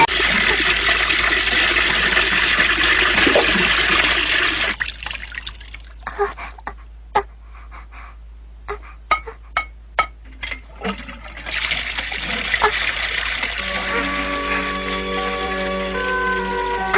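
Water running over a hand, pouring in a steady rushing stream, then breaking into scattered drips and splashes before the flow returns; a faint tonal music line enters near the end.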